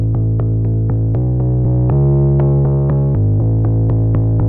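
Gritty Unison Bass Dragon synth bass with added distortion pumps out a steady stream of even low notes, shifting pitch a few times, loud and buzzing with no other instruments.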